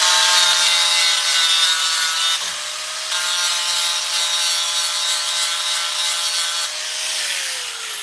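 Angle grinder cutting down mini spool lockers for a rattle trap car, a loud, continuous high-pitched grinding whine that holds steady for several seconds with slight pitch shifts as the cut changes.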